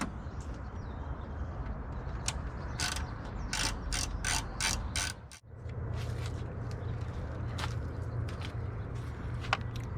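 Hand ratchet bolting down an anti-theft hood lock on a Jeep JL/JT, a series of close, crisp clicking strokes in quick rhythmic runs, with a brief pause partway through.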